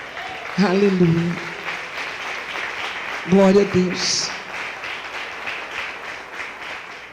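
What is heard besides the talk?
church congregation applauding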